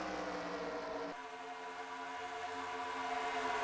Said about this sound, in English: hearing some more idling engines up ahead